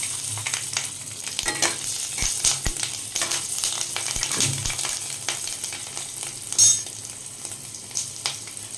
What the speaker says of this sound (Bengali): তেলের মধ্যে দিয়ে দিচ্ছি কালো জিরে আর দিয়ে দিচ্ছি কাঁচা লঙ্কা